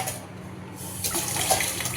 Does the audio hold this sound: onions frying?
no